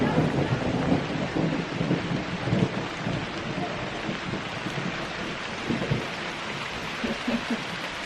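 Heavy rain pours steadily at a backpacking shelter on Isle Royale, with rumbles of thunder rolling underneath and some wind buffeting the microphone throughout.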